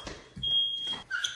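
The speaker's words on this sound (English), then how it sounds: "Raise your hand if you set off the smoke alarm while cooking." A smoke alarm emits a single sustained high-pitched beep, close and clear, over a brief mix of other noise.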